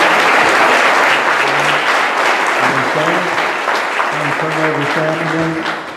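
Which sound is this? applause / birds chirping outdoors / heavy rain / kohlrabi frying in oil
applause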